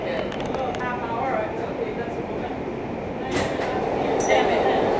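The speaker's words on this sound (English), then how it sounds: "This is a Lower East Side, 2nd Avenue bound V local train." New York subway V local train running, a continuous rumbling roar with faint rattles and a rising swell toward the end, under an announcement voice.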